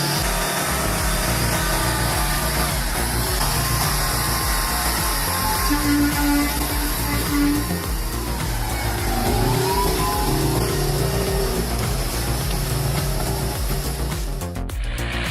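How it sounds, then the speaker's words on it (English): A heavily loaded truck's engine roars steadily and loudly as its wheels spin on a foggy, muddy road. The engine holds a sustained deep drone with slight pitch rises as it strains, close and continuous throughout. "The powerful engine roared, but the wheels kept spinning, putting all their strength into overcoming the foggy and muddy road."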